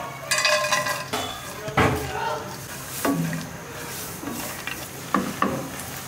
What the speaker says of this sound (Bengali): ঘিয়ের মধ্যে এই বাদামগুলোকে ভেজে নিতে হবে